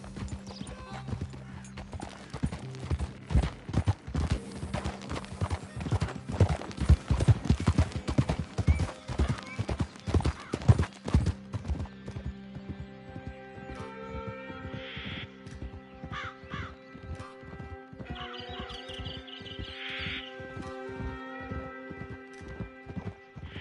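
A horse's hooves clip-clop in a steady rhythm, loud and close at first, then lighter and more even, with crows cawing in the background later on.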